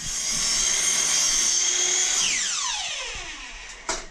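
A power sander whines steadily at close range while sanding a window frame, then spins down with a falling pitch, followed by a brief knock.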